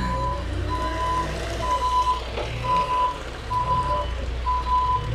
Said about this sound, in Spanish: vemos cómo está la máquina ya cargando el camión para llevarse todo el lodo